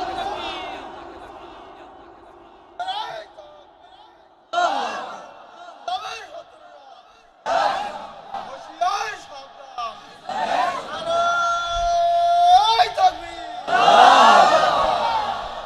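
A crowd gathered for an Islamic sermon in Satkhira, Bangladesh, shouts slogans in loud collective bursts, rising and falling in repeated waves and swelling into a sustained roar near the end.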